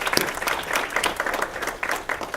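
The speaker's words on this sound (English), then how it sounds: "So if we can give a great round of applause for Dr. Waite" Audience applause at an academic talk on education history, dense steady clapping from a crowd filling the whole moment, loud and close with no speech over it.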